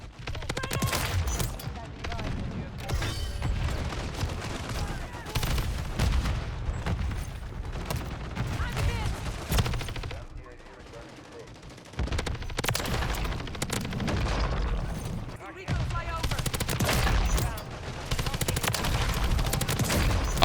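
Rapid automatic fire from a Kastov LSW light machine gun in Modern Warfare 3 rattles in dense, loud bursts with in-game explosions, continuing almost without pause, briefly quieter midway.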